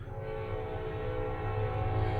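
A train rumbles past with a steady low mechanical drone and a sustained horn-like tone sounding throughout, fairly loud and continuous, with no speech over it.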